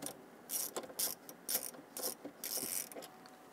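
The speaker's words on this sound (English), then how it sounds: "Using a 10 millimeter socket, loosen the anchoring nut here." A ratchet wrench with a 10 mm socket loosens an anchoring nut during fuel pump work on a 2011-2023 Dodge Charger 3.6L V6, giving several short bursts of clicking in an uneven rhythm, close and fairly quiet.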